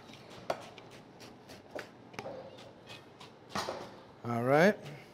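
Ingredients for a restaurant-style chicken korma are chopped with a knife on a board in a series of irregular, close taps, while people talk over the kitchen sounds.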